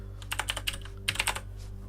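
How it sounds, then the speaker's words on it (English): Keystrokes on a computer keyboard, a quick run of clicks followed by a second short burst after a brief pause, close up with a steady low hum underneath. "I'm just typing this as I go"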